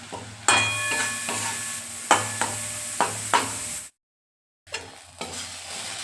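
Spice masala with turmeric and salt frying in a pan, a continuous close sizzle with sharp scraping stirs at intervals and a brief silent gap before the sizzling resumes.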